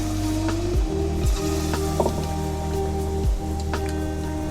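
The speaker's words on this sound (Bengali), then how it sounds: "এইভাবে আমি সব বড়াগুলো ভেজে নিয়ে আসছি" Palm fruit fritters (taler bora) frying in hot oil, a close, continuous bubbling sizzle with a few soft splashes and clicks as batter is handled, under a low steady hum.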